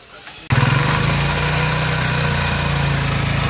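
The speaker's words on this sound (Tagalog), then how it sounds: "Tapos si Bossing from San Raimundo, yung motor niya na napakaingay, parinig ko sa inyo" A loud motorcycle engine from an overhaul shop starts abruptly and settles into a steady, rough, throbbing idle, close and dominant after a brief quieter moment.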